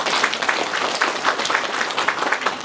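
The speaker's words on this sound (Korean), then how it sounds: "잘 돼야 된다면 박수 한번 쳐주세요" A hall audience at a Geumsan county governor's 2025 policy briefing breaks into steady, dense clapping, loud and close, lasting throughout without any voices.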